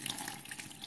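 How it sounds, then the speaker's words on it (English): Dirty water from a carpet washer tank is dumped into a household sink, a quiet splashing, gurgling pour running continuously for under a second, with no talking. "and then I just dump this water in my sink."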